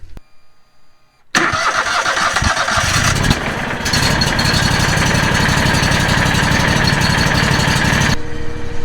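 Engine of a Tajfun firewood processor cranking over and catching, then running loud and steady at close range with a constant mechanical drone and no talking, cutting off near the end.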